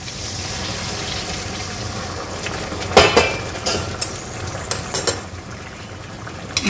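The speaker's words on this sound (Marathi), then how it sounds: "आणि आपलं गरम पाणी तुम्हाला जितकं ग्रेव्ही पाहिजे आहे रसा तेवढं आपल्याला इथे पाणी टाकून द्यायचं आहे." Hot water is poured into a pan of drumstick and potato curry, producing a steady hiss and bubble, followed by a few clinks of a spoon against the pan.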